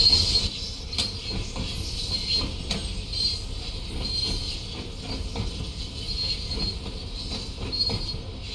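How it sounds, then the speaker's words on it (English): An Isle of Wight train in Train Sim World 3 runs downhill, its steady rolling rumble joined by repeated high wheel squeals and rhythmic clicks over rail joints, continuous and fairly close. "Just going to keep an handle here on the train speed as we are heading downhill."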